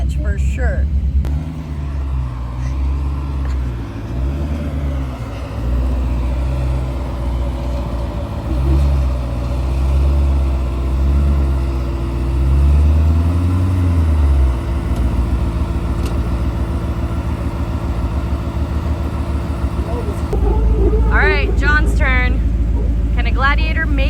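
A Jeep Gladiator engine labors up a rocky Z-turn trail, a loud low rumble with rising and falling revs, later settling into a steady idle while people talk over it.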